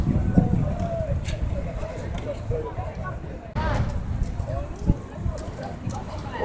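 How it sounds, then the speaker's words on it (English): Horses' hooves clip-clop on a city street during a protest in Rotterdam, a steady clatter of hoofbeats amid crowd noise and people talking nearby. "Horses."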